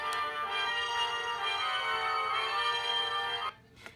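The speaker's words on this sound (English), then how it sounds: "Before they start, everybody tunes up to get ready." A children's sound book plays a recorded orchestra tuning up, a sustained blend of held string and wind notes that runs steadily for a few seconds and then cuts off abruptly, followed by a faint click.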